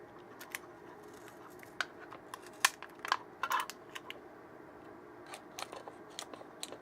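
Scissors quietly trim the sealing film over crystallization plate reservoirs in a lab, giving a few sparse, faint snips and small crinkles against a soft room hum.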